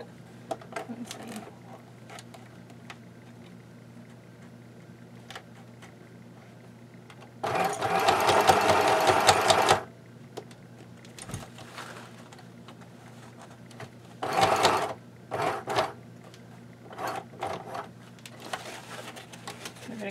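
A home sewing machine stitches a belly band for a travel case, running in two loud bursts of rapid mechanical stitching, one long and one shorter, with quieter handling and brief stops in between.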